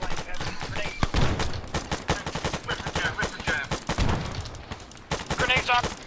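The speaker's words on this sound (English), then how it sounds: "1-2 taking heavy fire from the east" Rapid gunfire crackles through a military video game campaign, with dense bursts and volleys of shots close and loud, overlapping with players talking over voice chat.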